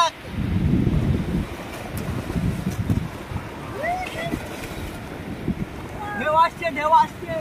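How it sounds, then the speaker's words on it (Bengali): Sea waves wash in gently at Bakkhali beach, a steady low roar of surf mixed with wind buffeting the microphone, with a few brief high calls near the end. "ঢেউ আসছে ঢেউ আসছে।"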